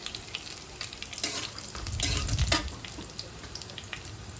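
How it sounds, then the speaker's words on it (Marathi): Cumin and mustard seeds sautéing with garlic in a hot pan for a spinach dal, a soft steady sizzle with light stirring scrapes that swells briefly midway, no voices. "जिरी मोहरी थोडीशी परतून घ्यायची."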